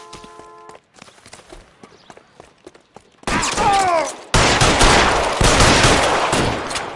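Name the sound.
gunfire in the L.A. Noire video game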